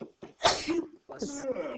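A single sharp sneeze bursts out nearby, followed by brief breathy vocal sounds.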